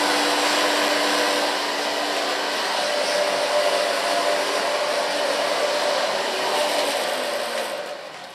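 A hair dryer blowing on hair during a mohawk cut and colour makeover at a salon, a loud, steady close-up whoosh holding throughout before easing off at the end, with no voices.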